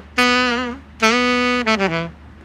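Three AI-generated saxophone notes converted by SoundID VoiceAI, two long sustained tones and a short run of quick notes, play alone, clear and close with slight vibrato.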